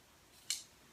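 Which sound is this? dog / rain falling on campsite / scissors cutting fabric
scissors cutting fabric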